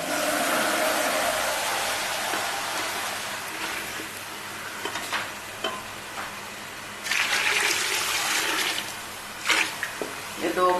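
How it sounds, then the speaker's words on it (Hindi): Water poured into a pot of lobia masala curry made with white lobia beans and fried masala, a continuous splashing pour with bursts, heard close up. "और इसमें पानी शामिल करती हूँ।"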